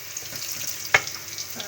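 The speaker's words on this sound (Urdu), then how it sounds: "پیاز تھوڑا سا ڈال دیں گے اس کے اندر، اور اسے فرائی کر لیں گے جی۔" Onions and cumin seeds fry in a pan for a Pakistani-style pakoda kadhi, giving a soft continuous sizzle with one sharp stir or crackle partway through. No one speaks.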